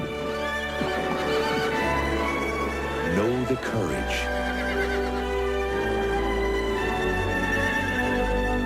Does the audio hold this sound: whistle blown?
no